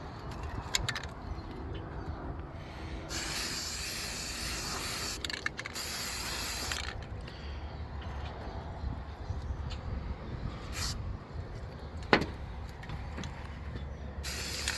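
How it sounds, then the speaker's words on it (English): An aerosol can sprays paint onto an Estes Hi-Flier XL model rocket with its aft end masked off, giving several close hissing bursts of a few seconds each, separated by pauses with faint handling noise. "Just masked off the aft end can get sprayed"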